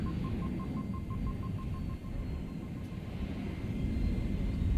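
A Hornet spacecraft touching down in a video game: a continuous low engine rumble with a quick series of evenly spaced beeps early on, the drone swelling slightly toward the end.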